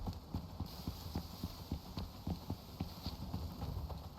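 Horse hooves clip-clop in a steady, quick rhythm in the video game Icarus, fairly faint, with a low hum running underneath.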